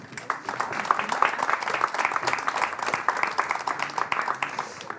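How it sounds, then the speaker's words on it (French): A studio audience on a French game show claps loudly and continuously in a dense, even burst of applause, with no talk over it. "On peut les applaudir bien fort parce qu'ils se sont donnés quand même à fond."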